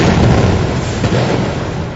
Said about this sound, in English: Under the cover of heavy cannon fire, Santa Anna slowly moved his men closer to the Alamo